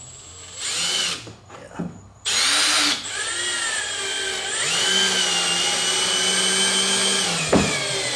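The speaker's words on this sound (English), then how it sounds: "I'll drill the next 2 holes" A power drill bores pilot holes into a Member's Mark pool lounger during assembly, giving loud whining bursts that rise and fall and then a long steady run; one brief spoken word is heard.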